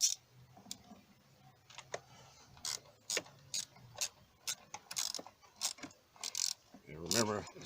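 A 1/4-inch ratchet tightens thermostat housing bolts on a 2010 Chevy Malibu 2.4L engine, giving close, repeated clicking pawl strokes in uneven bursts and ending in a longer whirring spin.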